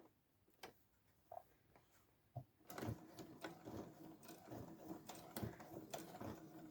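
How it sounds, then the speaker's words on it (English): Domestic sewing machine slowly running straight stitches through a thick fake-leather cover, producing a few isolated clicks before settling into a continuous rhythmic mechanical clatter with regular needle thumps, fairly quiet and close. "with straight stitching, slow sewing, I'm gonna be sewing all around of my"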